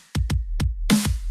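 Four sharp layered snare drum sample hits ring out one after another, punchy and close, with a cracking top and a full body, alone without talk.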